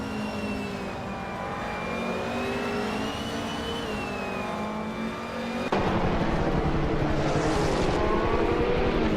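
A 1995 Chevrolet Camaro race car engine droning loudly and continuously at high revs, its pitch wavering slightly, with a sharp shift to a harsher, louder tone partway through.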